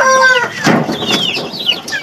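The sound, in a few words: Burmese Aseel chicken clucking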